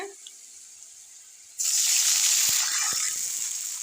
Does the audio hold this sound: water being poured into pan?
yes